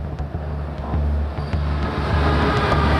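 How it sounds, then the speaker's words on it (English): Vienna's late-night weekend trains run with a steady low rumble and rhythmic clatter, loud and close throughout, with no talk over it. "the trains are still running"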